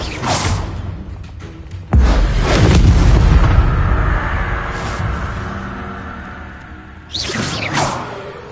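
Spell effects in the Hogwarts Legacy video game: loud whooshing bursts and booming impacts, with one heavy blast swelling and fading and another whoosh near the end over a continuous rumbling background.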